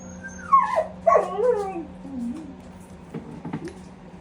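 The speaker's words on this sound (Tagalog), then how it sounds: "Sunod-sunod naman yung aso." A dog close by lets out high, wavering whimpers and yelps, then a few short barks, over a quiet background.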